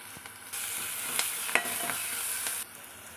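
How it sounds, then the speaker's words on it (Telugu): Turmeric and ginger are stirred into a ridge gourd dish in a pan: a steady close sizzle of frying with light scraping and tapping from the spoon against the pan, with no talking. "పసుపు వేసుకొని ఒకసారి మంచిగా కలుపుకోవాలి"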